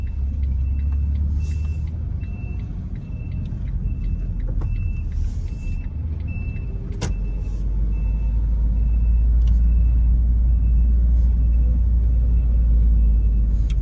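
A car rolls through Atlanta streets near a roadwork block, its engine a steady low rumble inside the cabin, with a faint repeating beep and occasional clicks.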